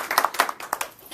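A few scattered hand claps from a small group after a speech, soft and irregular, with separate claps standing out over quiet room tone.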